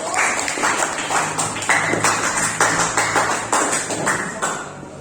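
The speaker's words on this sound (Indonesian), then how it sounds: "Ya beri aplaus untuk kelompok 1." Applause in a classroom as students clap for a presenting group: dense bursts of clapping in short rhythmic waves at a steady pulse, fairly loud and close, with no talk over it.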